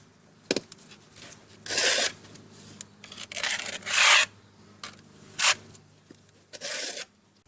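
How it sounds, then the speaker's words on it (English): Trowel scraping and spreading tile adhesive across a concrete siding wall to level it, in five or six separate rough, close swipes with brief pauses between them. "I'm going to use the trowel to level it"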